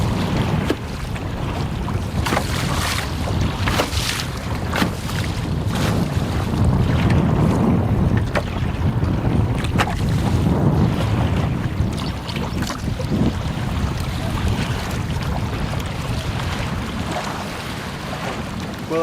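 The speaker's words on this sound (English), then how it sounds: "Well, that wind got pretty nasty." Strong wind roars constantly across a microphone while boating on a lake, with water splashing and hull noise beneath the steady buffeting, loud and unbroken with no talking.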